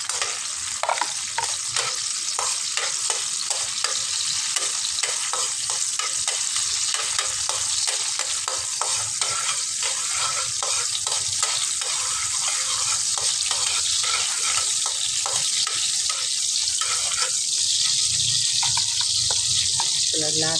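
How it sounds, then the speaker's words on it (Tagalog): Garlic sautéing in a pan for a simple home-style dish, a steady broadband sizzle with a repeated rhythmic scrape of stirring throughout, close and fairly loud, with faint water or tap sounds at times. "Igisa muna natin siya."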